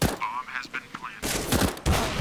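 AWP sniper rifle shots in CS:GO, loud sharp gunshot cracks over busy game sounds, with a second heavy report near the end of the short burst.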